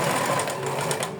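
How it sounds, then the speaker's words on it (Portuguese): Sewing machine stitching a wider seam on doll clothes near an elastic edge, a steady continuous whirr of rapid stitching, close and loud throughout. "Vou passar uma costura mais larga."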